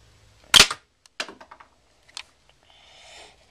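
An Iron Man 2 repulsor toy fires a projectile with one loud sharp pop, then a few quick softer plastic clicks and a faint whirring hiss trailing off at the end.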